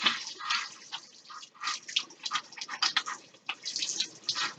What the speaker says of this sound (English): Make sure you get around your thumbs and your wrists and your pinky when you're washing your hands.